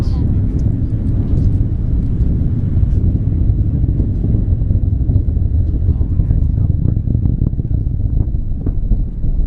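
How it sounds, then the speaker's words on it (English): A rocket lifting off, heard as a steady low rumble that roars continuously throughout, with people talking over it. "Was that the rocket lifting off?"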